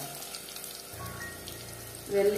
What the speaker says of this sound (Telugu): కొంచెం వేసేసి దాన్ని కొంచెం సేపు ఫ్రై చేయాలి